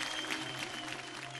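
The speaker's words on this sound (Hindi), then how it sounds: "जोरदार तालियों के साथ स्वागत कीजिए वेरी हैंडसम आशीष चौधरी का।" An audience at a talent show applauds to welcome a contestant, a brief, dense burst of clapping at moderate loudness.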